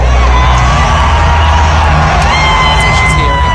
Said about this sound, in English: So that's mostly the crowd.